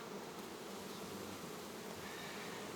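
Honeybees buzzing around hives in December, a continuous faint hum from many insects with no other sound.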